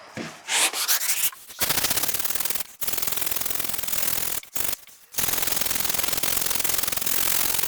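Power sanding of a surface with 80-grit abrasive, a loud, steady broadband rasping rub that runs in long bursts with several brief stops between passes and no talking.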